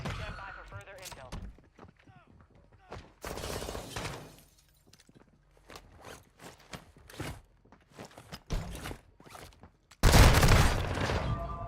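Gunfire in a first-person shooter game with an RPK and Basilisk comes as bursts of sharp shots and clattering impacts spread across the clip, with a loud, dense burst near the end and quieter gaps between.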